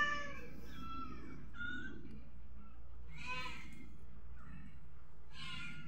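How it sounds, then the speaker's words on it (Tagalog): Cats meow repeatedly and insistently close by, with several drawn-out cries and a few shorter calls spread over a few seconds in a quiet room. "Duduwang mga pusa."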